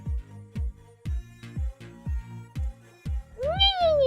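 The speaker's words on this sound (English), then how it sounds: "the little black floaty cat thing is screaming at me again" A small black floating cat creature in a video game meows in a regular series of short, evenly spaced calls, ending in a longer rising-and-falling meow, heard clearly and close with no talk over it.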